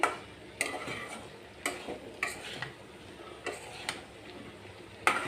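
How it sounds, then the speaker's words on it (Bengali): A spoon stirs drumsticks into thick lentils in a pan, each stir a faint, sharp tick or scrape at a slow, uneven pace over a low background hiss. "এই যে আমি সাজনাটা এখন ডালের সাথে কষিয়ে নিচ্ছি"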